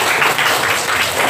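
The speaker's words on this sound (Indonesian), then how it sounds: "Tepuk tangan buat Kalimantan." A school class claps loudly for the winning group in a classroom, a short dense patter of many hands close by, with no speech over it.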